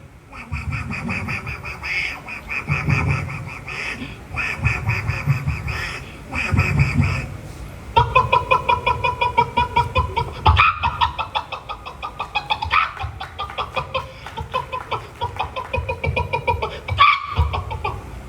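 A human performer at a state school arts festival mimicry contest imitates rooster crows and clucking bird calls, loud and close, repeating in bursts over a busy, layered background with no talking.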